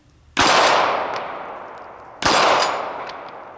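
Two loud gunshots strike a steel hostage target on an outdoor range. Each crack is followed by a long ringing metallic decay, about two seconds apart.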